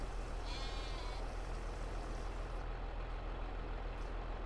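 In the Farming Simulator 22 game, a single sheep bleats briefly and faintly early on over a constant low engine drone and hiss that fills the whole stretch.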